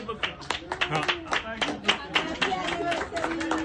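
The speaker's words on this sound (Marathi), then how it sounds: "परत एकदा टाळ्या वाजवा प्लीज" Audience clapping at a 40th wedding anniversary celebration: a steady round of applause from a nearby group, with voices talking over it throughout.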